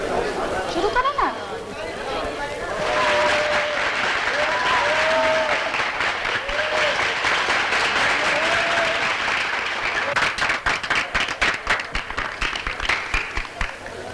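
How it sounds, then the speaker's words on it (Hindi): Audience applause from a crowd, building into a loud, sustained wash of clapping with chatter mixed in, then turning more scattered and uneven toward the end, while a voice talks and hums over it. "सबने तालियां बजाई,"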